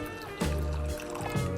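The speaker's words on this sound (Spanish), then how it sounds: "Vamos a incorporar también agua" Water poured into a roscón de Reyes dough mixture that already holds orange blossom water. It comes as two short, close liquid gushes over a steady tonal background.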